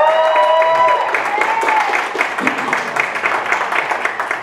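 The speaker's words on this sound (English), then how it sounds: "let's clap for our favorite X-Men" A convention panel audience bursts into loud, sustained applause and clapping that fills the room, continuing steadily as a crowd, with a voice over a loudspeaker at the start.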